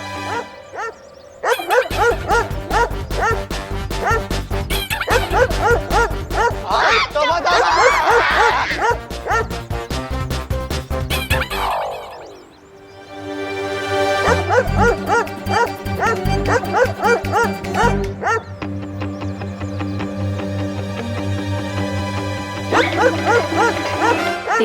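Loud, rapid barking and yipping, meant to pass for a small dog but likely a person imitating it, continuing almost without a break and dropping briefly once partway through, with a whining sound in the middle.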